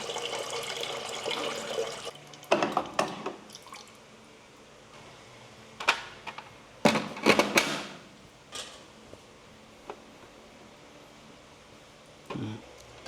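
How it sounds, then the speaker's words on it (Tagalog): Mineral water poured out of a container at an avocado ice cream franchise counter, heard as several short splashing bursts with drips and quiet pauses between them, close by. "Iubusin na yung mineral water."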